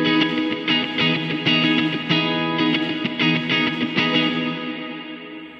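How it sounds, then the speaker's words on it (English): Electric guitar through Baby Audio Crystalline algorithmic reverb set very long, distinct plucked notes with clear attacks swelling into a wash of lush tail that rings out and fades alone at the end. "With the really long reverb and tons of reverb there, you can hear the initial attack."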